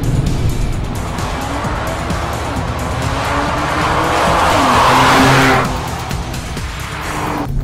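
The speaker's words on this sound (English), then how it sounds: "Now when you hear that downshifting, that is just beautiful." Loud Audi S4 engine revs rise and fall through downshifts, with a swelling roar and tire noise, close and continuous.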